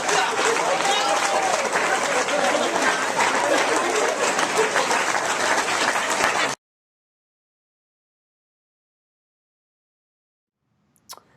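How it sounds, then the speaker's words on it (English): A crowd applauds loudly with dense, sustained clapping and some cheering for about six seconds, then it cuts to silence with a faint brief noise near the end. "Give a big round of applause"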